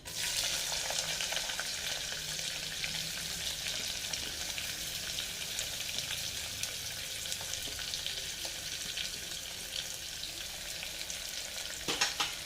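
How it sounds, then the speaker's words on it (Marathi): Sliced onions fry in oil in a pan over a medium gas flame, browning like biryani fried onions: a dense, constant sizzle and crackle, close and steady throughout, with a few stirring scrapes near the end and no speech. "आपल्याला जसा बिर्याणीचा बरिस्ता बनवतो त्याप्रमाणे आपल्याला कांदे भाजून घ्यायचे आहेत"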